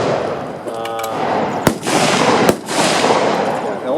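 Two sharp Springfield rifle shots crack about a second apart, each loud and abrupt, over a background of outdoor crowd noise and murmuring.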